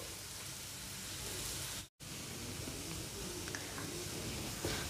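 Onions frying in a pan of hot oil while eggs are prepared, a steady close hiss of sizzling that cuts out briefly near two seconds and then continues evenly.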